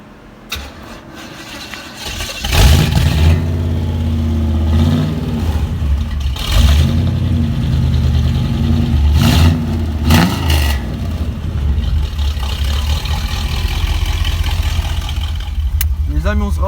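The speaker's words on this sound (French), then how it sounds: "maintenant on va démarrer la Pontiac" A Pontiac V8 cranks and fires up loudly, then settles into a throaty idle broken by several sharp revving blips, with voices talking over parts of it.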